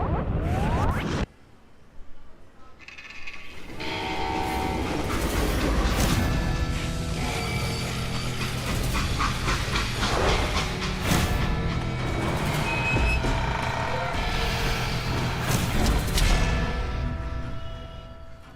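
A steam train from Call of Juarez: Gunslinger rumbles continuously with clanking, hissing and metallic screeching, a dense, loud mechanical rush after a brief opening crash and a short pause.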